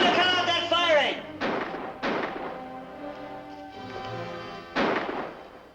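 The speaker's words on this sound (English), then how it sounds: "Tell him to cut out that firing!" Gunfire rings out in a 1954 western, with several sharp, echoing shots spaced about a second apart, loud and close, mixed with shouting voices in between.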